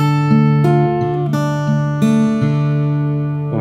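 An acoustic guitar in DADGAD tuning plays a short blues etude phrase, a few clear plucked notes ringing one after another over a sustained open drone, close and alone.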